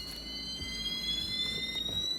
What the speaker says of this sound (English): Finally turn off that alarm.